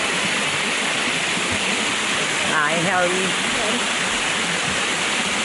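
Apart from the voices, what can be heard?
waterfall at Rainbow Springs, Florida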